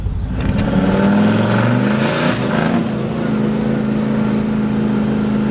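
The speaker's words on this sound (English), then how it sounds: "I think that's clutch slipping, but it's not breaking up like it was." A boosted LS-swapped C10 truck with a slipping clutch accelerates hard, its engine note climbing and droning loudly with rising harmonics, close and continuous without talk.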